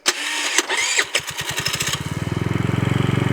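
A 50cc GY6 scooter fitted with a big bore kit cranks over with a rapid whirring starter, then the small engine catches and settles into a quick, even putter close by, with no talk over it.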